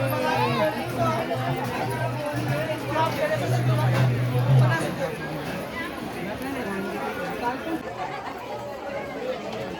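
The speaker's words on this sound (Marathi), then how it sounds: "खूप गर्दी आहे खूप" Dense crowd chatter at the crowded Jejuri temple on a Sunday, a continuous babble of many voices close around, with a nearer speaker talking over it.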